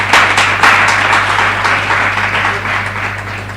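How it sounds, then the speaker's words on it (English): An audience at an energy and future-of-work seminar applauds after an introduction, loud, close clapping with distinct individual claps at first that gradually thins over a few seconds, with a steady hum underneath. "Please give him a round of applause."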